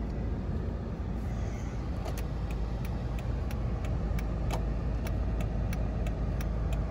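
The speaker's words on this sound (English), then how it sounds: "turn signals work." Turn signal clicking in a 2005 Dodge Magnum SE wagon, a regular ticking of evenly spaced clicks over a constant low engine idle hum inside the cabin.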